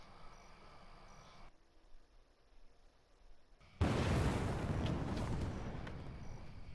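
A loud, sustained whoosh and roar of pyrotechnic fire bursts in suddenly after a quiet stretch, marking Kane's entrance in the wrestling game WWE 2K20, and holds steady to the end.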